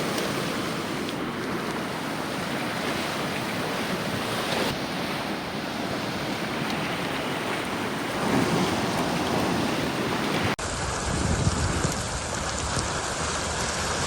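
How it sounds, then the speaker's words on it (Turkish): Heavy rain pours down during flooding in Mersin, a dense, continuous hiss with gusty wind buffeting the microphone, steady throughout with a slightly rougher, louder stretch toward the end. "müthiş bir yağmur yağıyor."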